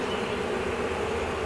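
Honeybees buzzing around an open beehive, a continuous droning hum of many insects close by, steady and moderately loud with no speech.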